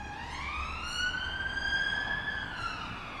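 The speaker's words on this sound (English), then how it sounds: "we get a lot of sirens and police cars and ambulances driving past here" A wailing police or ambulance siren rises and holds in a long sweeping tone, fairly distant, over low traffic rumble.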